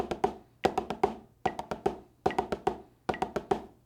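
Sticks on a practice surface play a percussion rudiment without accents, even repeated groups of quick taps in a steady rhythm, close and fairly quiet.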